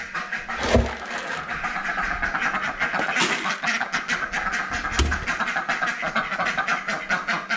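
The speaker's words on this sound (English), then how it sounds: "You guys probably can't even hear me right now because these ducks are so freaking loud." Loud ducks quack repeatedly in a noisy chorus, with a steady engine-like rumble underneath.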